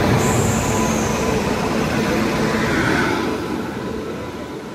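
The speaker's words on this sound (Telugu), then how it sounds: "పక్కన ఏదో ట్రైన్ వస్తుంది" A train rolls into Nidadavolu Junction railway station. A loud, broad rumble of wheels on rails is heard close by, with faint squealing, and it eases slightly toward the end.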